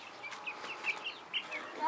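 Chickens cluck in a quick series of soft, close calls, several short notes spaced across a moment outdoors near a backyard coop.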